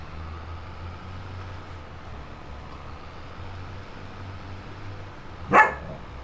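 A single short dog bark, fairly close, rings out over a steady low engine hum in the Farming Simulator 22 game on the Attingham Park map.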